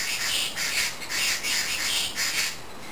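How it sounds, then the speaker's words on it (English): Birds squawking loudly in a repeated series of harsh, rhythmic calls, close by and dominating the scene, with no speech over them. "These birds cannot let me speak"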